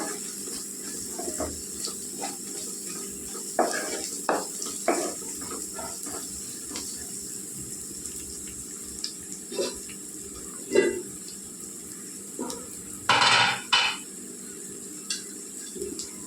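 Chili powder stirred and frying in a pan for a Telugu chukka kura greens dish: a soft steady sizzle runs throughout, broken by occasional scraping stirs and clinks of a spoon against the pan.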